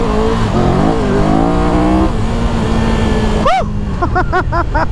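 Triumph Tiger 1200 GT motorcycle accelerating hard through the gears on the road, a loud close engine roar rising in pitch under steady wind rush, then a quick shift and another climb.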